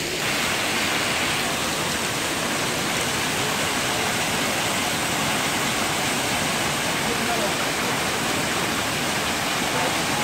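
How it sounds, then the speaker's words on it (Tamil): Waterfall near a resort in Munnar roaring as a steady, loud, broadband rush of falling water that fills the whole stretch without change. "இங்கே ஒரு ஃபால்ஸ் பார்த்தோம்"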